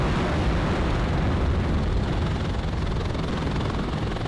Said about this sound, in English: Nice little view of the helicopter.